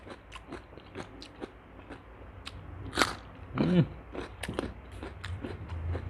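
Spicy lotus stem salad gets chewed up close with repeated crisp crunching bites in an irregular rhythm, fairly quiet, with a voice briefly murmuring between chews.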